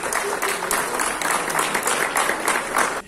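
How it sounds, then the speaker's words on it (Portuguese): Enthusiastic applause and cheering from the people present at a vaccination event, a dense, steady clapping that continues for the whole stretch before cutting off. "O momento foi acompanhado de euforia e aplausos por parte dos presentes."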